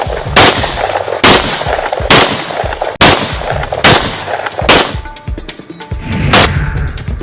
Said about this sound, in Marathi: बंदुकीतून 30 राऊंड फायर केले